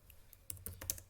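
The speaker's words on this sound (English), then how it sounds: "let me just type that one again" Quick, soft keystrokes on a computer keyboard, a handful of light clicks in an uneven burst, faint and close with no voices.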